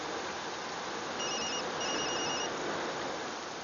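A mobile phone rings with an unknown number calling, giving two short bursts of high electronic ringing set against a loud, steady wash of hissing background noise, with no one speaking.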